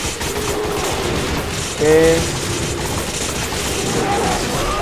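Rapid gunfire from a shooting battle in the video game Resident Evil 5, a dense continuous burst of shots that sounds like a machine gun and runs steadily throughout, with a brief spoken word over it.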